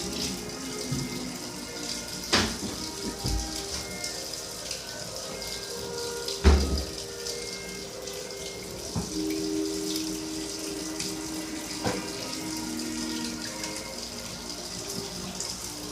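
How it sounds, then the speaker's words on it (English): A kitchen sink tap runs in a steady, rushing stream of water. Occasional clunks and knocks break the flow. "I start the sink 30 seconds to a minute early"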